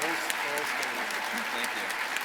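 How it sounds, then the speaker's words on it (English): Standing ovation at a university convocation, dense, sustained clapping from a large audience with voices faintly audible underneath. "Standing ovation."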